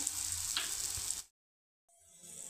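Onion chutney with coriander sautéing in a pan, a bright, even frying hiss with a faint stir scrape, cut off abruptly, then returning more softly after a short silence.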